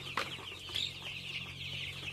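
Chickens cluck close by in short bursts over a steady low hum, with a high chirping bird-like tone running through.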